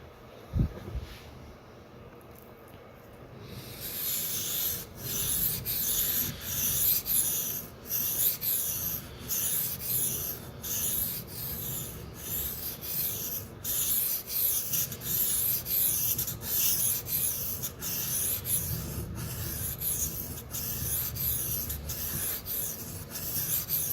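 A Sabatier paring knife is stroked across a Shapton or Suehiro whetstone in a steady run of regular rasping passes, close and fairly loud, with a brief quieter moment at the start.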